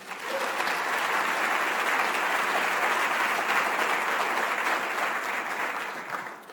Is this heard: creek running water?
no